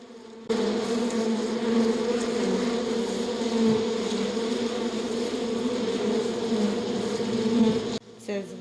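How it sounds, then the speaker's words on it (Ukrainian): Steady, dense buzzing of many bees, loud and close, holding a constant drone for several seconds before cutting off abruptly near the end. "звук гудіння бджіл."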